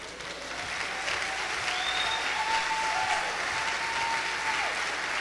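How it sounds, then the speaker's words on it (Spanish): Steady crowd applause at a Spanish-language church sermon in Panama, an even wash of clapping with scattered voices and whoops rising above it, sustained throughout. "aplausos a eso último"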